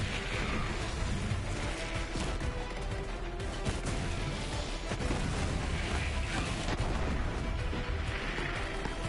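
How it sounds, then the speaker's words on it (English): Grenades burst in Borderlands 3 amid a continuous barrage of gunfire and booming explosions, a dense, steady wall of combat noise throughout, fairly distant and muffled. "Throw my grenades out."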